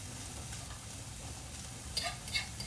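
Hamburger meat cooking in a pan while making baked spaghetti, a soft steady sizzle with faint stirring and a couple of light utensil clinks near the end.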